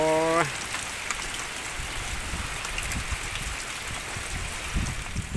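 Steady outdoor rain falls on a riverside fishing spot, a dense, even hiss of drops with no pauses, after a brief electronic tone at the very start.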